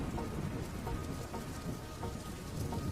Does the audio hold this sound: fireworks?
no